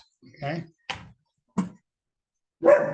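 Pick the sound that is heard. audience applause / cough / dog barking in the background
dog barking in the background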